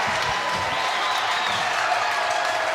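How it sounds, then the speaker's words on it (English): A basketball crowd at a varsity boys' game between Indian Hill and Taylor cheers loudly, a dense roar of voices, whistles and clapping that stays steady and close. "Crowd is going crazy."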